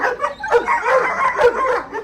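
A guard dog in bite training gives a rapid run of sharp barks and yelps, loud and close, with whining between them and no one talking.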